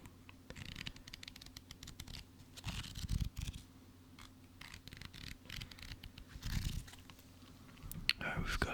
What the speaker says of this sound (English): A little bit of page fluttering, page turning.